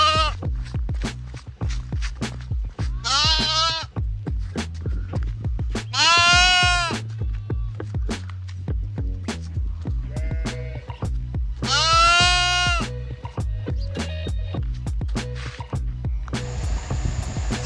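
Lambs bleating repeatedly beside a forest cooking spot, with several loud, wavering cries arriving in irregular bursts over a steady low hum and occasional clicks.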